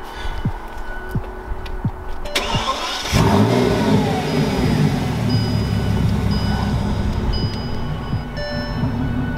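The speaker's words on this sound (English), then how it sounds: "Should I start the engine?" A Bentley's engine starts with a sharp burst partway through, then revs loudly and settles into a full, rumbling run close by, after a quieter stretch of ambient sound with soft knocks.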